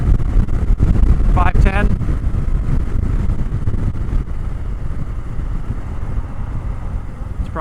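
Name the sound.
Indian Super Scout motorcycle engine at full throttle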